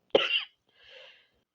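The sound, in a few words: cough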